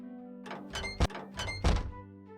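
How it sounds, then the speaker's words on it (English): A swinging pantry door in a video game bumps and thunks back and forth, several soft knocks with two heavier thumps, fairly near and alone. "Swinging door."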